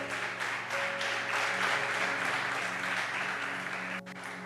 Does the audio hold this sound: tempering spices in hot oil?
no